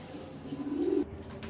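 Racing pigeons coo softly nearby, one low burbling call rising briefly before it cuts off, in a quiet setting with no speech.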